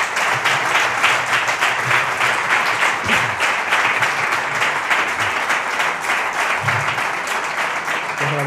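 An audience at a heritage lecture on the first ambulance in the sierra gives a second round of applause in tribute, steady dense clapping continuing for over eight seconds with faint voices underneath.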